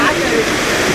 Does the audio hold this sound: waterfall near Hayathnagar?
yes